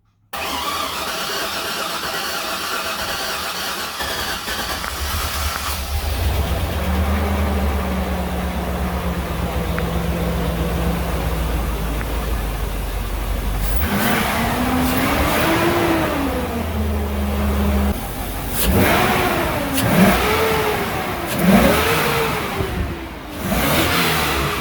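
An LS-swapped square body truck cranks and fires up for the first time, its engine catching with a loud roar, then revving up and down in several surging pulls over a steady idle.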